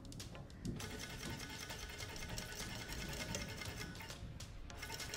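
A sewing machine runs steadily through thick bikini fabric, stitching the back section of a retro top, a continuous close mechanical whir with a brief stop near the start and no talking.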